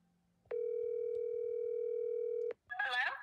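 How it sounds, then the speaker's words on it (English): A phone call placed over Verizon Wi-Fi calling: a single steady ringback tone lasting about two seconds, clear and fairly loud, followed by a brief voice answering. "we're gonna try to make a phone call"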